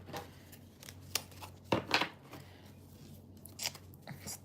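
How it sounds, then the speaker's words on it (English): A thick deck of tarot cards is shuffled close by: soft, crisp riffles and rustling flicks in quiet, irregular bursts, with no one talking. "Let me just shuffle this other deck here."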